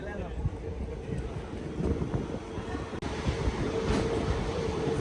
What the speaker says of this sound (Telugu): కంబం స్టేషన్ నుంచి అయితే మన ట్రైన్ బయలుదేరిపోయింది.